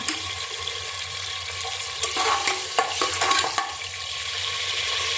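Tomato tossed into hot oil with cumin, turmeric, coriander, bay leaf, cinnamon and cardamom, giving a steady close sizzle with a brief burst of stirring clatter midway and no talk.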